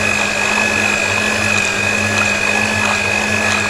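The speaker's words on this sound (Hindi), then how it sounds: "ये बीटर तो सबके घरों में होती है, इलेक्ट्रिक बीटर। तो इससे हम अपने साग को पीसेंगे" An electric beater grinds mustard greens for sarson ka saag, a loud, steady motorized whir with a constant hum that runs unbroken and close, with no talking.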